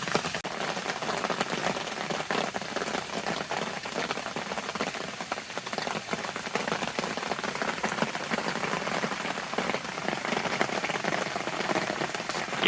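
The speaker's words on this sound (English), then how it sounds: "it's raining pretty hard" Heavy rain pours steadily onto a camping tent during a hard downpour in Vermont or Rhode Island, a dense, constant patter and hiss from close by, loud and unbroken, with no voices.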